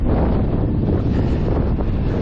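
Strong wind howls and buffets steadily across a crag in Northumberland, loud and continuous with heavy rumble, no voices.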